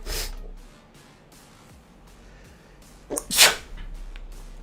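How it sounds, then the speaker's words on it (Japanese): A single sharp, close human sneeze bursts out about three seconds in, following quiet breathy sounds in an indoor setting. "くしゃみ出そう"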